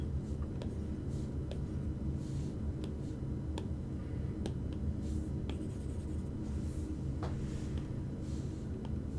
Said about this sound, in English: I'll just write on the side.